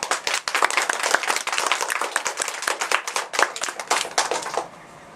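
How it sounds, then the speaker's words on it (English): A game show studio audience claps and cheers in a dense, steady burst of applause for a contestant, loud and sustained before cutting off abruptly near the end. "Give a big round of applause for Lexie Fisher."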